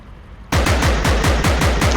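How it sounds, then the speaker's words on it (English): A pink assault rifle in the video game Compound fires a rapid automatic burst, loud punchy shots in a fast even rhythm that starts abruptly after a brief quiet. "One of my favorite guns is this pink assault rifle."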